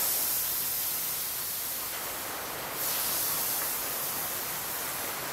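An airbrush sprays water-based paint at about 30 psi with the air left running constantly, a steady soft hiss close by that swells slightly partway through.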